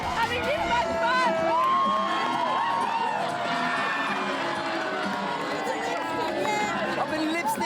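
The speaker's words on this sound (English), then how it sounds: "Look at this, the crowd is going absolutely wild." A big crowd of men at a Birdsville outback event cheers and shouts wildly, a dense loud swell of whoops and yells with chatter mixed through it.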